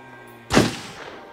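A single sharp gunshot from the video game Until Dawn, fired at a bag: one loud, close broadband crack with a short decaying tail, standing alone against a quiet background.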